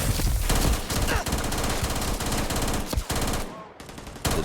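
An automatic weapon in Starfield fires in sustained rapid bursts, loud and close, with a brief pause near the end before shooting resumes.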